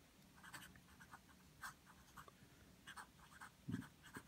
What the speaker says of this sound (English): Backside writing works, a little bit scratchy, a little bit on the drier side